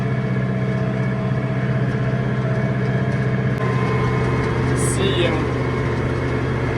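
A Basak 2110S tractor pulling a Kverneland Optima seeder during corn sowing gives a steady, loud diesel drone, while someone talks over it throughout.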